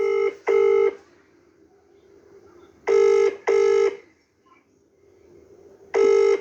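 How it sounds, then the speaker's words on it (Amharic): An outgoing phone call rings unanswered. Loud, clear double ringback tones repeat at regular intervals, with quiet gaps between them and no voice answering. "ያው እየደወልኩ ነው፣ እየጠራ ነው፣ አያነሱም"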